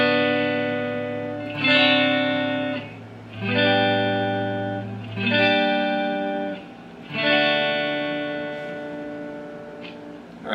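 Ibanez Roadstar II RS430 electric guitar on its neck pickup plays the same sustained chords repeatedly, four ringing strums each decaying over about two seconds, clear and alone.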